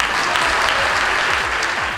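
Students clapping at a menstrual health conference at Tema Secondary, a steady, dense round of hand claps filling the room at close range throughout.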